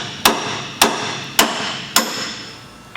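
Four sharp, evenly spaced hammer blows ring out close by, striking a steering idler arm on a Chevy Duramax truck to break its taper loose, each hit fading quickly before the next.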